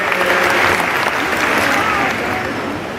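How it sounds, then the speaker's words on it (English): Aquarium show audience clapping and cheering in a big, steady round of applause that stays loud throughout, easing slightly toward the end. "How about a big round of applause for Nunavik?"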